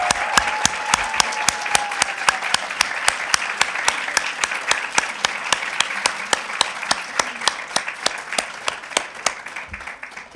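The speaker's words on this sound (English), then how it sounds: "And can we give them a round of applause" Sustained applause from an audience at a recognition event honoring staff, dense steady clapping with sharp individual claps standing out throughout, loud and continuous with no talking.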